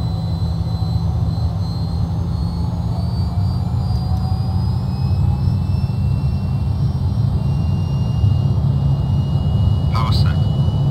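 A 2015-era flight-simulator Fokker F28 regional jet's engines spool up toward takeoff thrust, a loud steady roar with a slowly rising turbine whine, and a voice speaks over the drone.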